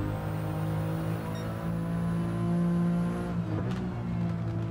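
A Nissan Silvia S15 with a 2JZ engine swap driven on the Nordschleife in Gran Turismo 7, a sustained high engine tone holding steady, then a brief dip and tire scrub as it shifts or brakes.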